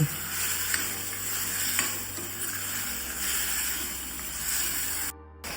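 Pav bhaji masala with red chili powder and turmeric stirred in a hot pan, a steady close sizzle with soft scraping strokes of the spoon, uninterrupted by voices, cutting off abruptly near the end.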